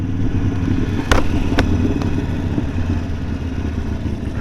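Steady engine drone and wind rumble from a motorcycle ride out, loud and continuous, with a few brief clicks or knocks early on.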